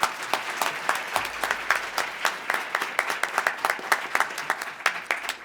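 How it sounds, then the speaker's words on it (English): Audience applause for two finalists at a high school debate championship, a brisk stream of clearly separated claps from a modest crowd, steady and fairly close. "both of these gentlemen deserve another round of applause"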